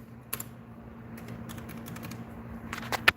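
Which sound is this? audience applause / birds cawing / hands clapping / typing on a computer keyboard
typing on a computer keyboard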